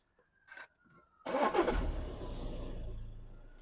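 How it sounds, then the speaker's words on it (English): An Audi A6 car engine cranks and catches with a loud roar, then settles into a steady idle, close by. "I'm going to start the car before I inject the chemical."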